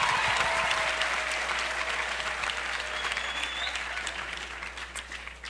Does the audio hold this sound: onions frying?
no